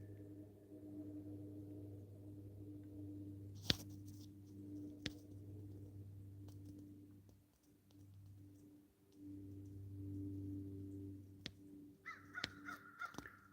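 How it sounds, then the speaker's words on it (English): Outdoors, a crow gives a few sharp caws at a distance over a steady low hum, with quiet pauses between calls and some small clicks near the end. "There's a crow."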